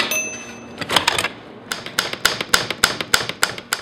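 An old manual typewriter clacks key by key in a steady rhythm of sharp strikes, close and alone, with a faint bell-like ring at the start.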